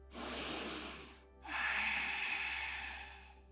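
Two deep, airy breaths during a yoga session, close and fairly soft, a long inhale followed by a brief pause and then a longer, fuller breath, with no talking.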